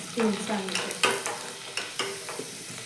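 Chopped onions stirred in hot tempering oil in a pan over a low gas flame, a soft continuous sizzle broken by several scraping stirs, close and fairly quiet.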